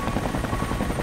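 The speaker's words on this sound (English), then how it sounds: "Investigate the helicopter landing." Helicopter rotor thrum from a landing in the video game Rise of the Tomb Raider, a steady low pulsing drone heard alone for a brief moment.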